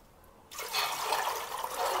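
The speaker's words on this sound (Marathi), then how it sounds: "पाणी ओतायचं." Water is poured into a pot of whole spices for veg dum biryani, starting abruptly after a quiet moment and then running as a steady, close, rushing pour with no talking.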